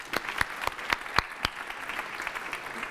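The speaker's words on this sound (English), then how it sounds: "let me ask you to give a round of applause to the Visma Ski Classic CEO, David Nilsson" Applause for the Visma Ski Classics CEO at an event in Helsinki, a few distinct loud claps in a slow regular rhythm over a softer background patter from the audience, tapering off toward the end.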